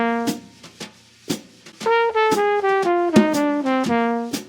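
A dominant bebop scale runs downward in even eighth notes on a single pitched instrument, each note clear and sustained, following a few spaced opening notes, played alone with no talking.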